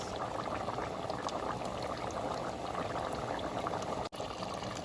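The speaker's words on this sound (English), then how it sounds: "I'm going to let that boil for about 10 minutes" Potato soup bubbles at a steady rolling boil in a pot, a dense, continuous simmering wash that stays even and close throughout, with no voices.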